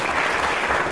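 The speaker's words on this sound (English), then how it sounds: "give them a round of applause" A wrestling event crowd gives a short, loud burst of steady applause, dense hand-clapping filling the moment with no voices on top.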